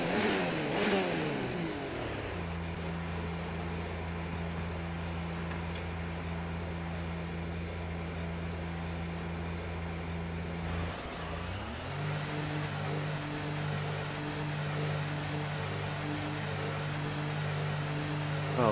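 Formula One car engine in the F1 2019 racing game, waiting on the grid at Great Britain, idling with high revving bursts, a steady droning hum that jumps in pitch, loud and continuous.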